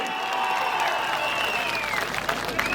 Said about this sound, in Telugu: గట్టిగా చప్పట్లు కూడా చెప్పండి సాధ్యమని